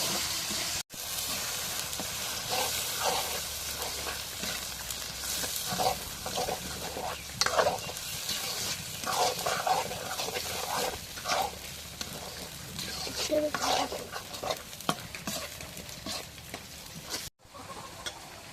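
Spices and salt are stirred in a cooking pot with a continuous scraping, sizzling rustle and occasional utensil clinks against the metal, close by and steady for a long stretch without talk.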